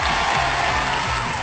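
A crowd in a village gathering in Chooralmala, Wayanad claps in dense, continuous applause, close and fairly loud, throughout the short moment.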